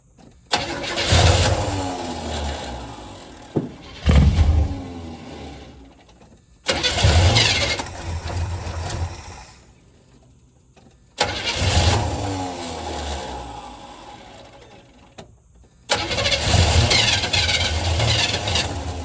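A 1977 Chevrolet K10 truck engine that has sat unused for years is cranked by the starter again and again in loud, close bursts of several seconds each, separated by short pauses, without settling into a steady run.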